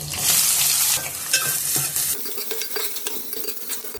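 Green chillies and onions hit hot oil in a pan and crackle loudly in a dense sizzle, followed by scraping spoon stirs against the metal as the sizzle settles, close up with no talking.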